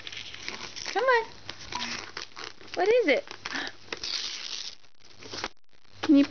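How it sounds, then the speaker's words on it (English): Christmas wrapping paper crinkling and tearing as a present is opened, with rustling bursts mixed among people talking close by. "Can you pull the paper?"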